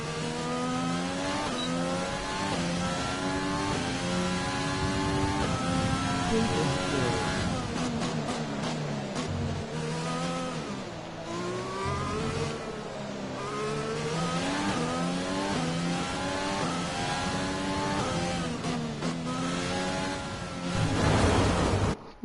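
An F1 race car engine in the F1 2020 video game, at the Dutch circuit during practice or qualifying, revs hard and continuously, its pitch climbing and dropping through gear changes and corners, loud and close with no talking.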